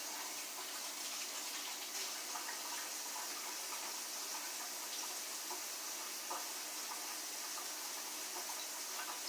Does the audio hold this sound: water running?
yes